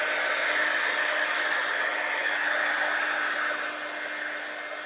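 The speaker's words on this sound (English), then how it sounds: "let's just attack it with a heat gun." A heat gun blows steadily over a mixed media art piece, giving a loud, constant airy roar for several seconds that eases slightly at the end, with no talking.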